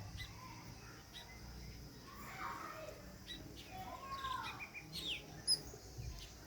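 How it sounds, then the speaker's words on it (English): Faint, scattered weaver bird chirps in a village in Tamil Nadu, India, over a low background rumble, the calls brief and high, with a sharper chirp near the end. "the weaver birds have found a safe place to build their nests here"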